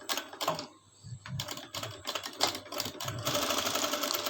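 A sewing machine runs a lock stitch along a child's frock, its rapid mechanical chatter coming in close bursts with brief pauses, then running steadily toward the end.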